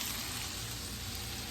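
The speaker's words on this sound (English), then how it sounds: "I'm not frying it with oil, I'm frying it with butter" Chicken fries in butter in a pan with a steady, quiet sizzle and soft crackle that holds evenly throughout, heard close and alone without speech.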